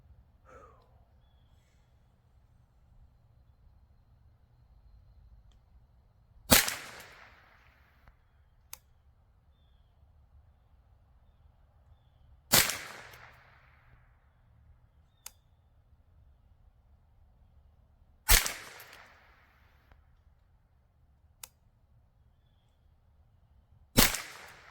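Four sharp rifle shots from a Ruger 10/22 in a Luth AR MCA-22 polymer chassis firing CCI standard .22 ammunition, spaced several seconds apart, each loud crack with a short trailing echo, plus faint metallic clicks between shots.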